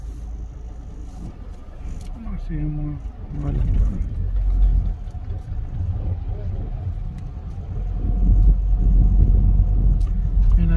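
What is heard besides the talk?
garbage truck engine rumbling ahead on the street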